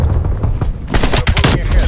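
A frag grenade in Call of Duty Black Ops Cold War, with loud bursts of gunfire and a booming blast over constant battle noise, a voice talking briefly in the mix.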